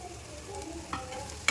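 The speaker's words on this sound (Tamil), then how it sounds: "தக்காளி நல்லா வதங்கினதும் ஒரே ஒரு ஸ்பூன் நம்ம சாம்பார் மிளகாத்தூள் போட்டுக்கணும் லைட்டாக வதக்கிட்டு கொஞ்சமாக கரம் மசாலா" Tomatoes with chilli powder and garam masala being sautéed in a pan, a soft low sizzle with a few light stirring scrapes and one sharper clack near the end, no talk.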